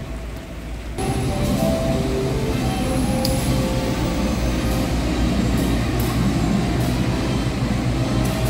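The Gumarang train on the Semarang–Jakarta route rumbles steadily as it runs, starting with a quieter moment and then swelling into a loud, continuous roll. Faint squeals and clicks cut in now and then, and no one speaks.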